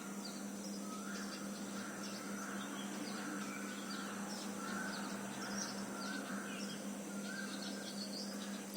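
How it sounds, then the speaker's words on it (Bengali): Small birds chirp and tweet repeatedly in a home garden among coconut and betel nut trees, faint calls scattered over steady outdoor ambience, with an occasional crow-like note. "কত পাখি কিচিরমিচির করে ডাকাডাকি করছে"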